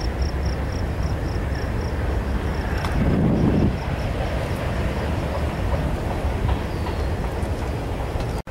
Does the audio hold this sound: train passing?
yes